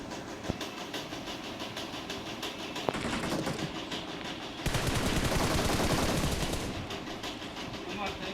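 Gunfire in a BGMI video game match rings out as scattered single shots, then a dense burst of rapid automatic fire in the middle before fading back to a quieter background.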